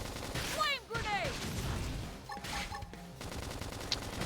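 A flame grenade attack in the Xenoblade Chronicles video game sets off rapid sweeping blasts and crackling bursts amid battle effects and busy combat noise.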